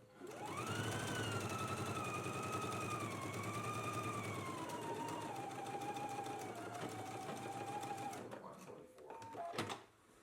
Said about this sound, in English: I am going to go to my sewing machine and go ahead and finish off my side seams